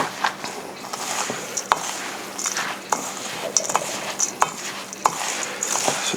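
Crab cake mixture, seasoned with extra hot Old Bay, is worked together with crushed crackers by hand or spoon, giving steady close wet stirring and squishing with sharp clinks of utensil against a bowl scattered throughout.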